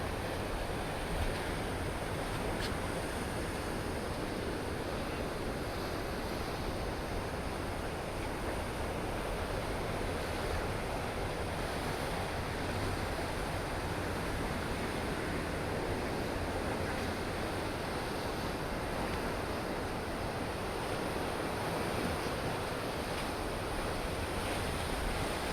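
Huge ocean waves crash against the black sand shore in Tenerife, a steady, dense roar of surf with wind rushing across the microphone, unbroken and loud throughout with no voices.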